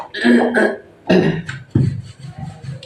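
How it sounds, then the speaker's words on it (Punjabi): Someone with a cold and a badly sore throat coughs repeatedly at close range, a few harsh bursts in quick succession followed by rougher, throaty sounds. "ਵਾਰ ਵਾਰ ਖਾਂਸੀ ਜਾਂਦੀ ਆ"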